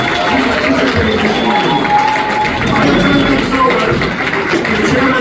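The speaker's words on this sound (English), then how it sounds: "How about a nice round of applause for all of our governor and lieutenant governor candidates?" An audience at a Republican gubernatorial candidates event applauds and cheers, a sustained crowd roar of clapping with scattered voices that swells and holds steady throughout.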